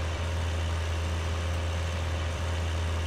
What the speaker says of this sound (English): I'm really liking this modded tractor.